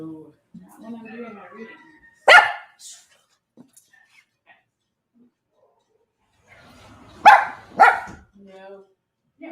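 A dog barks in several short, loud bursts, a single yip near the start and a close pair of barks later, with quiet gaps between them and a person talking softly indoors in the background.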